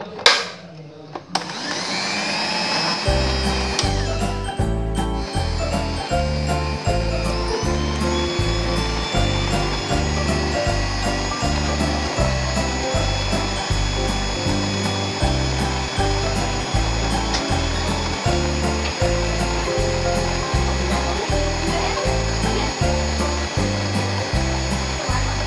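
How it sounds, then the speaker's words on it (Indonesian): An electric mixer runs at low speed through batter for a steamed batik sponge cake with coconut milk, giving a steady, loud mechanical whir with a regular pulsing churn that continues without a break after a brief start. "Lalu ini mixer dengan kecepatan rendah."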